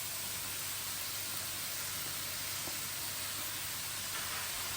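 Zucchini and green pepper sizzle in a pan as they are stirred, giving a steady, even hiss that holds at the same level from start to finish, with no voices.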